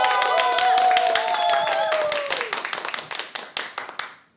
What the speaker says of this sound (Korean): 박수로 맞이 주세요